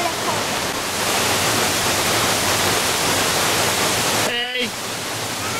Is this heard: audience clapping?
no